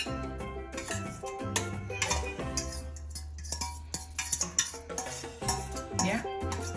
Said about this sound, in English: So now we're adding our drained tuna to a large bowl where we'll be mixing it